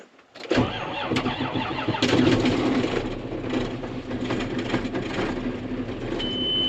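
A John Deere 7410 tractor engine cranks and fires on a cold morning at about 30 degrees, then settles into a loud, steady diesel idle close by with no talking.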